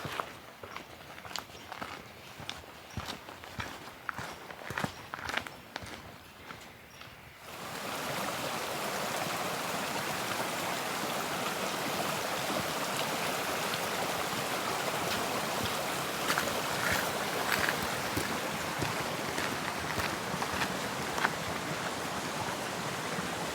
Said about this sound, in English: That is water crossing number 1 there